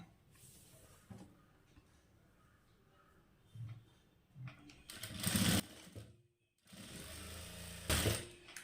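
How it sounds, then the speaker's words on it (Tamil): Sewing machine stitching the side seam of a blouse, running in short bursts with pauses between them. The whirring is close and moderately loud, with louder runs near the end and no talk. "கொஞ்சம் தூரம் தையல் போட்டு நிறுத்திட்டு"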